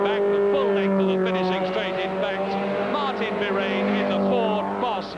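A V8 Mustang race car passes during a 1971 British Saloon Car Championship race at Crystal Palace, its engine a loud, sustained drone that shifts pitch as it goes by, with a commentator's voice running over it throughout.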